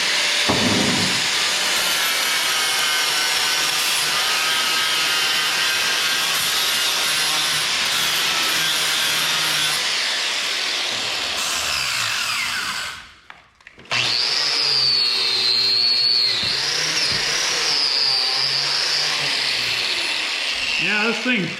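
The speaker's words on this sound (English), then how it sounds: "This is a real, what is it, 80 grit flap sander" An 80-grit flap sander grinds a rusty, abused vise with a loud, continuous abrasive whine. It breaks off briefly near the end and then resumes as a higher, wavering grind. Someone talks over part of it.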